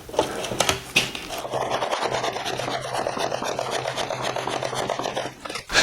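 A cylinder of boilie bait dough is rolled on a rolling board, giving a steady, close rasping rub that runs almost unbroken, with a few sharper scrapes at the start and end.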